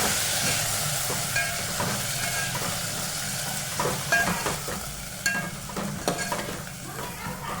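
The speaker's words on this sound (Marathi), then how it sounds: "आपण चिरलेली मेथीची भाजी याच्यामध्ये टाकून घेऊ आणि छान परतून घेऊ" Chopped fenugreek leaves sauté in a pan, with a continuous sizzle and hiss broken by repeated scraping and stirring clacks from a spoon.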